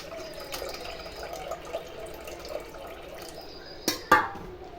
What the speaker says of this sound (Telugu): కొంచెం వాటర్ పోసుకోండి.